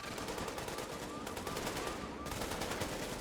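Video game gunfire aimed at supply drops, a dense, continuous rattle of rapid shots filling the background without pause.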